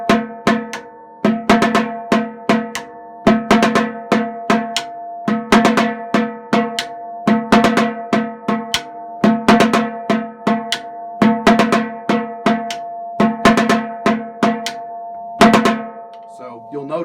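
A high school drumline's bass drum section plays a groove cadence in unison, with repeated rhythmic patterns of sharp, pitched drum hits and quick flams carrying steadily through the whole passage, loud and close with no talking.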